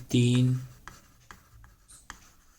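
Pen writing on paper during a maths lesson, a handful of soft scratchy strokes close by, following a brief voiced sound at the start.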